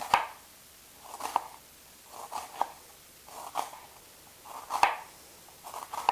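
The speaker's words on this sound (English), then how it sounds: "you're going to cut using this sort of motion" Knife chopping an onion finely on a cutting board, about six separate bursts of quick close-together cuts spaced roughly a second apart, fairly quiet and up close with no talking.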